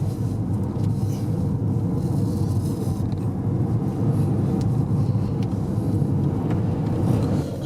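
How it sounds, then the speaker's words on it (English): A car drives through the small Irish town of Ballyfarron in Sligo, with a steady loud road rumble and engine drone from inside the vehicle, continuous throughout without talk. "So we're just driving through Ballyfarron here."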